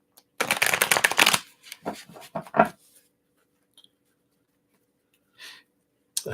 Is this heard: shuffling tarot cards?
yes